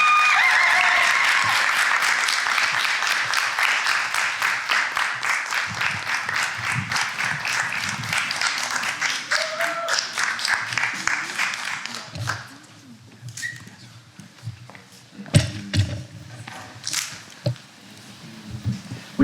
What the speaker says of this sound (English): Give them a round of applause as they come on down